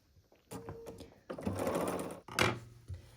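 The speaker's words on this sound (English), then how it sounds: "So I am going to continue sewing these units." A sewing machine stitches quilt units for a buffalo plaid Christmas tree quilt in several short bursts of running motor whir, the longest in the middle, with brief pauses and handling noises between.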